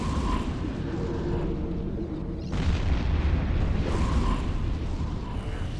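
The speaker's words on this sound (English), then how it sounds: "when I run the cruise missiles" Cruise missiles exploding in the space game Eve Echoes, heard as dense rumbling booms that swell twice over a constant low roar of combat noise.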